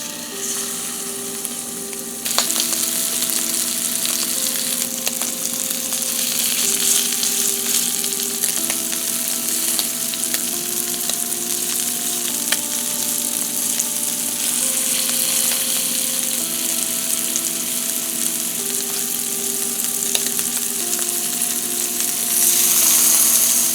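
Shrimp and vegetables fry in cooking oil over medium heat, a steady loud sizzle running throughout with a quieter start, while soft background music plays underneath.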